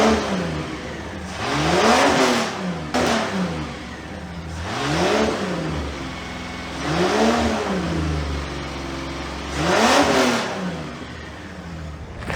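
An EH Holden engine revs hard in four separate bursts with fuel injected into the exhaust, each rev rising and falling sharply with roughness between pulls, loud and close.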